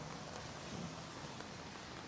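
Rain falls steadily on an outdoor spring blossom festival scene in Steveston, a faint, even wash of hiss that holds without pause and with no talk over it.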